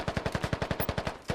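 Rapid automatic gunfire in the tactical shooter Squad, a steady burst of about a dozen evenly spaced sharp shots, loud and close, with a short pause before another shot at the end.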